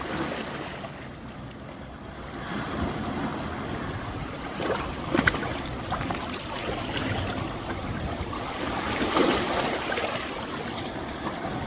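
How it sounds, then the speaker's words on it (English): Small waves wash onto the Lake Superior shore on the North Shore, a continuous near rush of water with gentle swells and soft crashing surges, no voices. "Little waves coming in. We got a little crashing action going on."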